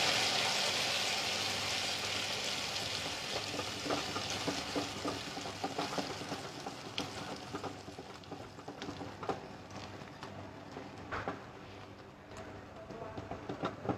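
Hot butter and sugar whisked in a pan over a low gas flame, a continuous frying sizzle broken by rapid rhythmic taps and scrapes of the whisk against the pan, close and steady throughout.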